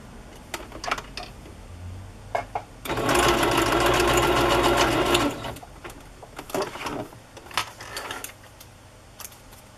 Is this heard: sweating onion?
no